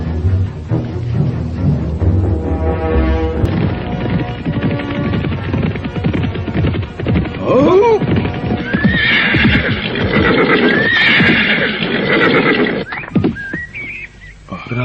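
Several horses neigh and whinny loudly while hooves clip-clop steadily nearby, with a low hum and whistling in the background throughout.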